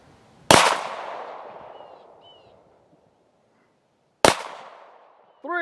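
Two loud, sharp gunshots ring out at an outdoor shooting range a few seconds apart, each followed by a long rolling echo, and a voice comes in at the very end.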